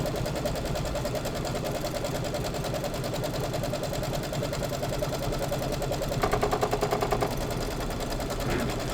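A sewing machine stitches out a design during a Candy Lane sew-along quilting project. Its fast, steady mechanical whir and rapid needle chatter run continuously and fairly close, with a brief louder rattling stretch near the end.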